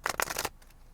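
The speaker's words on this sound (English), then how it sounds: "Let me shuffle these" A deck of cards being shuffled by hand in a quick riffle of crisp flutters lasting about half a second, followed by a couple of faint softer taps.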